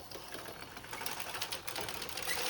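A knitting machine carriage is pushed across the needle bed during 1x1 rib neckline shaping. It makes a continuous close mechanical clatter and whir that builds slightly toward the end.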